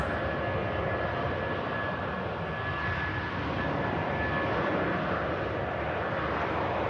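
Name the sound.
British Airways Boeing 747 jet departing Manchester Airport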